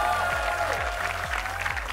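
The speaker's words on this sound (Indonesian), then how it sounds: "Tepuk tangan sekali lagi dong buat anak-anak kecil luar biasa ini" Applause from a studio audience for young child performers on a televised audition talent show, a dense continuous clapping wash laid over a steady repeating low musical beat throughout.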